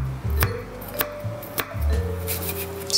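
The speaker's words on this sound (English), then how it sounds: "So just gonna mince it" A knife mincing a single garlic clove on a cutting board, several sharp, irregularly spaced chops close by, with a steady hum from a pan heating over medium heat underneath.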